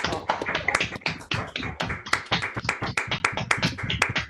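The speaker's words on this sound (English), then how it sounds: "give each other and Alison a big round of applause" Online group applause from many people clapping over a video call, a dense, close patter of overlapping hand claps and taps held steadily throughout.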